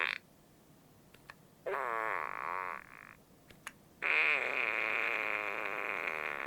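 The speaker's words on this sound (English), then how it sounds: "Why give it 7 unique different fart noises?" A poop emoji plush toy lets out two drawn-out buzzy fart noises, the second longer and louder, separated by a short quiet gap with faint clicks.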